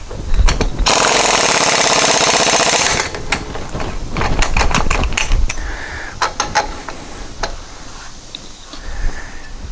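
A power tool hammers a gland nut onto a dune buggy axle hub, one loud close burst of rapid impact rattling, then scattered clicks and clanks of handling.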